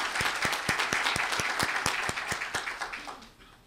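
An audience at a civil procedure congress applauds, a run of sharp distinct claps in an even rhythm that thins out and fades toward the end.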